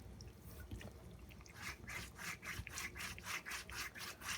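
A pumice stone scrubs dead skin from a foot softened with vinegar and lemon, starting with scattered scrapes and settling into faint, rhythmic back-and-forth rasping strokes.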